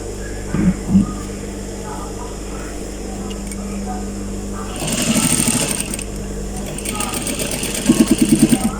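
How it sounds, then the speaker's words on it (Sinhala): A sewing machine stitches down a pleat on elastic-waist shorts, running in two short bursts of rapid mechanical whirring, while someone talks quietly in between. "නමාගෙන ඊළඟට මේ ප්ලීට් එක දිගේ පහළට මහනවා."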